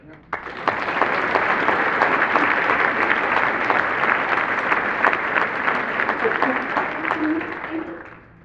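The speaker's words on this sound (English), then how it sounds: "please join me in giving them a wonderful round of applause for all of their hard work" Sustained audience applause at a Frank Lloyd Wright–themed fashion show, a dense wash of many hands clapping that swells up quickly and holds steady for several seconds with a few voices mixed in.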